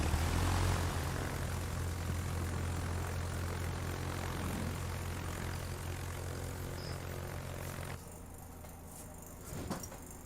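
A fighter plane launches in the naval combat game World of Warships, its propeller engine droning loud and steady before cutting away abruptly near the end, leaving quieter game ambience.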